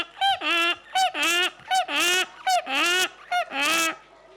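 A human voice imitates a donkey's bray in a loud, close string of hee-haw bursts with a strong squealing pitch and short gaps, performed at a children's music therapy summer event.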